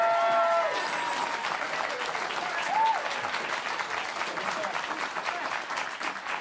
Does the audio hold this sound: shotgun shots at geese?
no